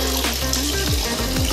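Water gushing steadily through a homemade DIY channel in an old bathroom under cleanup, a continuous close splashing rush with a low pump-like hum beneath it.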